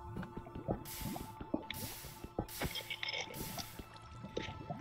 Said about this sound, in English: Okay, I found water.